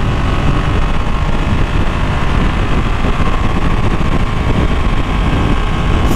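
A Ducati Panigale V2 motorcycle engine runs at full power in race mode, a loud, dense, continuous roar held steady throughout, close up and with no talk.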